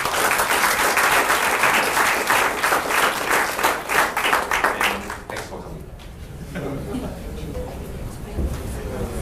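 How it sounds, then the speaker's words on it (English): Audience applause for speakers at a Traveloka and DSSG talk on NLP and personalised recommendations, a dense burst of clapping that fades after about five seconds into room noise and quiet voices. "Okay, can we give a round of applause for our speakers?"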